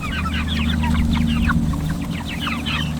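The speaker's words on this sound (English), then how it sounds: "We got one more batch of meat chickens." Meat chickens in a chicken tractor cluck continuously in a dense, close chorus of overlapping short calls over a low steady hum.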